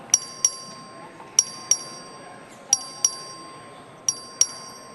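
Voting bell in the Texas House chamber rung by the clerk: sharp metallic dings in pairs, repeating about every 1.3 seconds over a quiet room hum.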